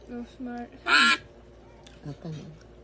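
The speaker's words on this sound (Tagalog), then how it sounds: "Ang ating nangunang pato ay Rona the Twin" Ducks quack and honk during a duck race, with one loud burst in the middle and a few softer calls, while a voice talks over them in the background.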